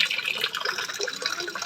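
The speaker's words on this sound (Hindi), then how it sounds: "मशीन में चल रहा है पानी" Water runs into a washing machine as a steady, hissing splash with small gurgles and drips, close by and unbroken for the whole stretch, with no talk.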